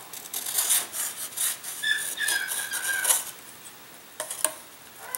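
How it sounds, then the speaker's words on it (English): Sandpaper rubs along the bottom of a model aircraft wing's leading edge in quick, close, uneven scratchy strokes with no voices. "Sanding a little bit of the bottom of the wing leading edge"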